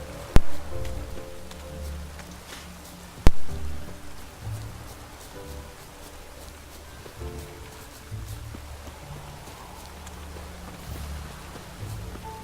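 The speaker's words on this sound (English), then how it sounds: "Rain again. Damn mages." Rain falls in The Witcher 3, a steady hiss of drops pattering on surfaces throughout, with two sharp knocks early on and soft rumbling underneath.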